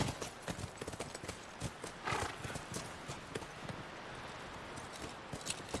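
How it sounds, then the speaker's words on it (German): Video game horse hooves, from The Last of Us: brisk clip-clopping keeps up a steady rhythm of close, crisp knocks, with a brief whinny partway through and no voices. "Komm zu den Pferden."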